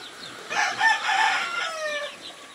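Free-range chickens on a rainy farm, with a rooster crowing one drawn-out call close by, its harmonic notes rising and trailing off, while hens cluck faintly underneath.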